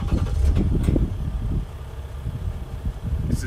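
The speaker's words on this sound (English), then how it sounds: "This is the EcoDiesel at idle." A 2020 Ram 1500 EcoDiesel pickup engine idles with a low, steady rumble, slightly louder at first, with some wind noise on the microphone.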